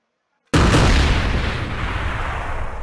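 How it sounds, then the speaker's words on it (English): A loud in-game explosion from bombs going off in Garry's Mod, a sudden powerful boom after silence that rolls into a long rumbling, crackling decay. "Let's say I'm like setting off explosives in an event."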